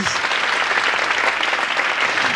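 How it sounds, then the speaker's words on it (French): Dense, loud applause from an audience at a French game-show style scoring segment, a continuous clapping wash at steady volume with no speech over it. "On applaudit."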